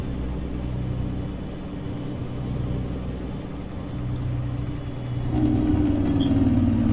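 A low, steady 388 wrecker truck engine rumble from a video game idles, then revs up and grows louder near the end, with a brief higher whine joining in.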